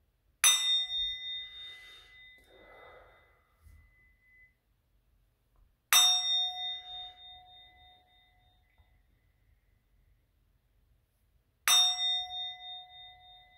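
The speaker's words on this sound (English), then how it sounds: "I'm gonna ring the bell now." A bell is struck three times at even intervals of about five and a half seconds, each a bright, clear ring that decays slowly and sits alone in near silence.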